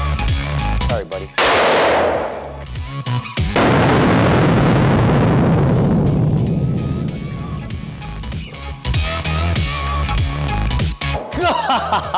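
Handgun shots fired at a BulletSafe VP3 Level IIIA ballistic vest: a sharp near blast, then a heavier one ringing into a long fading roar, with people talking throughout.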